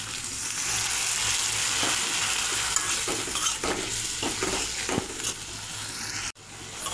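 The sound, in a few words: spice paste added to fried bean seeds, sizzling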